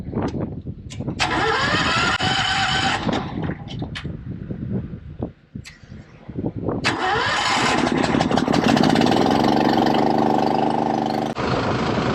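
A farm truck that has just been topped up with DEF and fuel cranks several times with sharp starter whirs, catches, then settles into a loud, steady, close idle.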